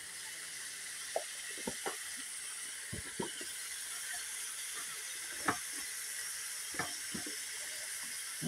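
Spices frying in oil in a home kitchen pan, a steady soft sizzle with scattered clicks and taps of a spoon, fairly quiet and close, no talking.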